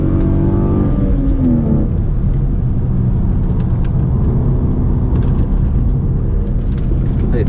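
A BMW E36 drives on a race track, its engine a loud, steady rumbling roar close by throughout, with a rising rev early on and faint talk underneath.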